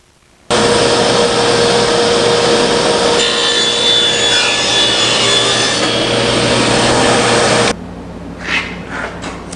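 A saw cuts a wooden test piece with a loud, steady, continuous rasping roar for about seven seconds, then stops abruptly, leaving quieter workshop sounds.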